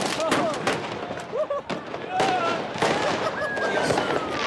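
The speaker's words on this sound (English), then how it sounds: "Every kid above the age of 5 seems to have been issued a lighter and a fistful of fireworks." Fireworks set off by children in a crowded Libyan square, a dense run of sharp cracks and bangs with whistling rockets, close and far, over crowd noise and voices.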